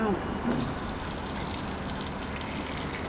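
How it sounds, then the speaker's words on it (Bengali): Chopped okra tipped into hot oil in a kadai, a sizzling hiss right at the start that settles into steady frying under a voice. "তেল দিয়ে এখন সবগুলো সবজি আমি কড়াইয়ের মধ্যে দিয়ে দিচ্ছি"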